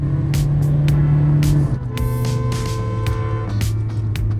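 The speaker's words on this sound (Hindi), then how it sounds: "इंजन की आवाज़ सुनो" A Hyundai Venue diesel automatic engine runs loud and steady close by, its pitch shifting as it revs, with a couple of brief clicks over the drone.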